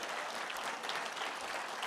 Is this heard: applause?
yes